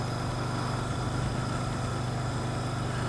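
A motorbike engine running at a steady idle, a continuous low rumble with a constant hum, fairly quiet and alone with no voices.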